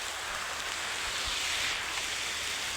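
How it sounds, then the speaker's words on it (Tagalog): Rain falls as a steady, even hiss outdoors, with faint low rumbles beneath and no voices. "Maulan guys, maulan."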